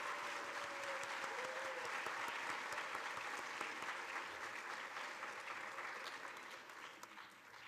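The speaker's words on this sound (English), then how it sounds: "please have one more round of applause for all of our teachers" Sustained applause from a crowd for teachers at a school board student recognition ceremony, steady and fairly loud throughout, fading slightly toward the end.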